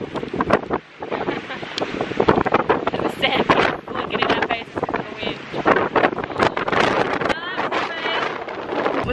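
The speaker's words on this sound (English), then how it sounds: "It's very windy." Strong wind at the beach buffets and rumbles throughout, gusting loudly, while people talk and shout over it.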